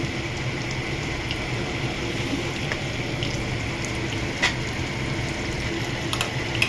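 Ginger, garlic and green chilli paste hits hot oil in a pan with potatoes, making a steady, fairly loud hiss and sizzle with a few faint clinks.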